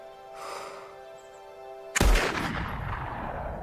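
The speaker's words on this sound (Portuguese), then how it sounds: "Belo tiro, filho." A single loud rifle gunshot in a film's hunting scene cracks out sharply after a stretch of quiet tonal background, followed by a long rolling echo that decays slowly.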